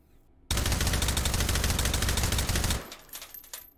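A suppressed AR-18 rifle fires a rapid, steady burst of muffled shots for about two seconds, close and loud, inside the H3VR shooting game, then cuts off into quiet range noise.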